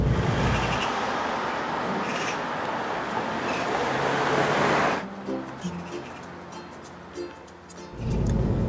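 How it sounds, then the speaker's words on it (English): Road noise inside a Citroen DS3 with big wheels at motorway speed, a loud broadband roar for about five seconds that drops to a quieter cabin hum with light knocks, then swells again at the end. "there's quite a lot of road noise, especially at motorway speeds"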